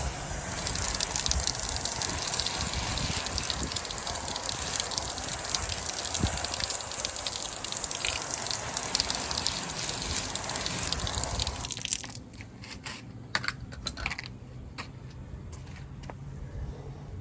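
Water gushes steadily as it rinses grime off old surplus tires, then cuts off near the end and leaves scattered drips and splashes.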